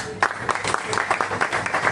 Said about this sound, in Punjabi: ਇਹ ਤਾੜੀਆਂ ਵਾਲੀ ਗੱਲ